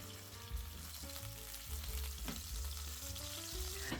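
Chicken thighs sizzle and crackle steadily in a very hot pan, loud and close, with occasional scraping and shifting sounds as the pieces are turned.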